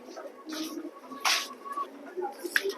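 Coloured pigeons at a loft coo softly in short, scattered calls, fairly faint and close, with light background noise and a couple of brighter bursts.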